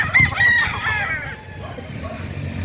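Hatch gamecock rooster crows once near by, a loud drawn-out cock-a-doodle-doo fading out, followed by softer clucking and farmyard background.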